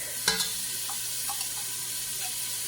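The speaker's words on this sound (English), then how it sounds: "what you want to do is you want to fry it around until it's aromatic." Thai green chili paste fries in a pan, giving a steady soft sizzle with a few stirring scrapes, and no talk over it.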